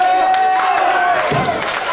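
A wrestling crowd at a live tag team show in Morecambe cheers and shouts loudly throughout, a dense roar with whistles and claps, while a commentator talks over it.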